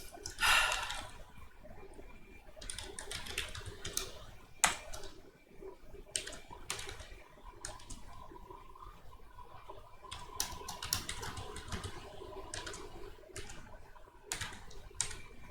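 Keys clacking on a computer keyboard as code is entered, a steady run of quiet close taps in short bursts broken by brief pauses, with one louder stroke near the start.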